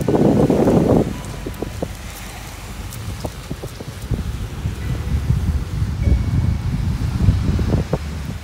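Wind blowing outdoors on a walk toward the beach, a steady broadband rush with low buffeting gusts against the microphone, a stronger burst at the start and no talking.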